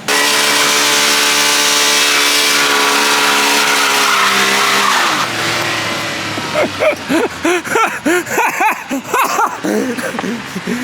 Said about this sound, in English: You're just spinning that tire so much.